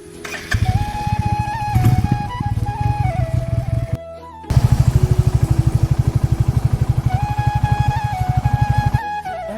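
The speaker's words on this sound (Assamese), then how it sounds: "এয়া বাইক ষ্টাৰ্ট দি ওলালোঁ লংডিং বুলি" A motorcycle heading from Naharkatia toward Longding in Arunachal Pradesh chugs through its start-up with a rhythmic, throbbing idle, goes briefly quiet, then pulls away with a louder, evenly pulsing engine beat close by.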